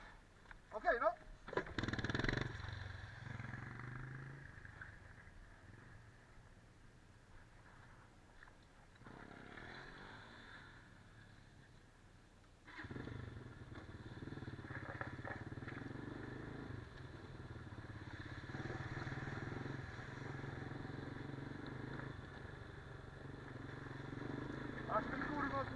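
Quad bike engine running as a first-time rider sets off, a steady buzzing drone with clatter and rising revs, with people talking nearby at the start.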